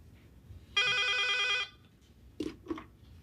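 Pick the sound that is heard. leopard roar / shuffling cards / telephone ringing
telephone ringing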